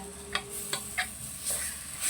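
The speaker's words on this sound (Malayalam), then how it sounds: "ഇതെല്ലാം നല്ലപോലെ ഒന്ന് വഴറ്റിയെടുക്കാം" A spatula scrapes and stirs spices, tomato and onion sautéing in a pan for a Kerala-style fish curry, a few distinct clinks and scrapes over a soft, steady sizzle.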